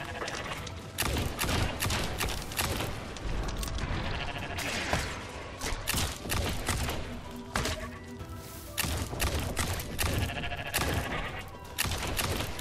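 A big goat bleats in the video game Wizard With a Gun, repeated cries amid thumps, gunfire-like bursts and busy game sound, fairly loud and continuous.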